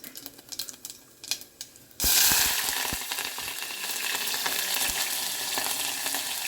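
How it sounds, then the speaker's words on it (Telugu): Cumin seeds hit a hot, oiled pan and burst into a loud, sustained crackling sizzle after a few light clicks, staying close and steady to the end. "ఆల్రెడీ ప్యాన్ వేడైంది జీలకర్ర వేసేద్దాం"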